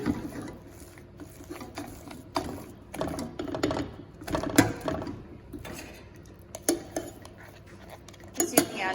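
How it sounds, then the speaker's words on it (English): Knife scraping cooked sausage-and-mash leftovers off a utensil, heard as irregular metallic scrapes and clinks with sharper knocks spread through, close and fairly loud against a quiet kitchen background. "Just using our knife to get that off."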